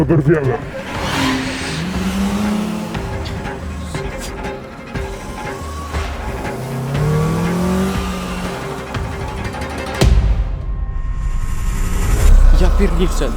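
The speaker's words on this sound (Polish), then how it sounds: "Wszyscy szybko udaliśmy się do aut i od razu zaczęliśmy kierować się za Radkiem." Several cars pull away quickly in a chase, engines revving and tires squealing on the road, with a loud burst near the end and excited voices over the traffic noise.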